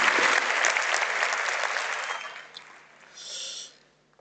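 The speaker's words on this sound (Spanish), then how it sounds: "damos un aplauso" A conference audience applauds at a session on internationalisation and well-being, with brisk steady clapping that fades out over a few seconds, followed by a brief breathy noise near the end.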